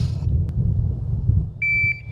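An electronic shot timer buzzer sounds one short, sharp, steady high beep to start a long gun shooting drill, following a quiet room with a faint click.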